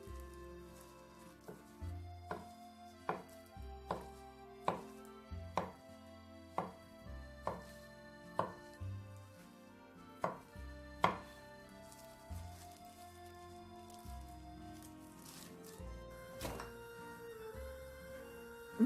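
A knife cuts a thin omelette sheet into shreds on a cutting board, about a dozen crisp, evenly spaced taps close by. The rhythm slows and thins out toward the end.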